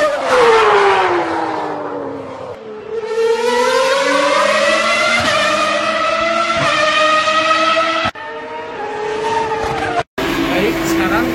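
A motorcycle engine fitted with a reamed carburetor revs hard on a dyno, its loud rising and falling howl climbing through gears with brief cut-offs near the end.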